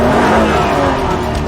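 Car engine revving hard during a car chase in a TV drama, a loud, rising mid-pitched roar that holds steady and then swells slightly, heard alone without speech.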